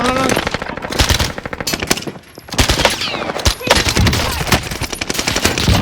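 Rapid bursts of automatic gunfire from an Uzi in a competitive shooter video game, loud and close, with repeated rattling volleys, a brief pause midway and overlapping in-game sounds.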